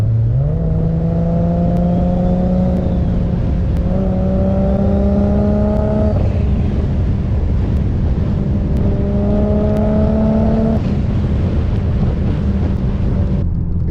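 A 2JZ-swapped Chrysler 300 pulls hard through rising engine tones, drops briefly as it shifts, then climbs again in repeated surges of acceleration, loud and continuous with no talking.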